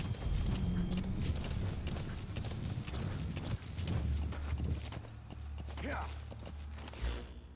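D-Horse's hooves clip-clop at a steady trot in Metal Gear Solid V, close and moderately loud, with creaks and game noises around them and a brief rising whinny-like cry near the end; no one speaks.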